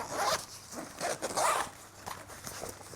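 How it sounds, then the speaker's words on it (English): A zipper on an XD Design Bobby Soft anti-theft backpack is pulled in several quick, close rasping strokes, with short pauses between them and no talking. "Okay, that's a zipper."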